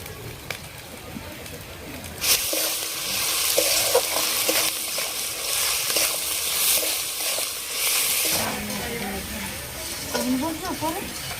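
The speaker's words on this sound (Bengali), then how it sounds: "মশলাটা আমার একটু কষানো হয়ে গেছে।" Ginger-garlic paste, turmeric and salt sautéing in a pan, with a loud, dense sizzle that swells after a quieter start, a few utensil scrapes, then fades near the end as a voice speaks.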